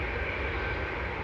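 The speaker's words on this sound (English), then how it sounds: "So we just saw TUI depart in front of us, heading over to Malta." A TUI airliner departs Manchester Airport bound for Malta, its engines making a steady, broad roar that holds at an even loudness throughout, with no voices.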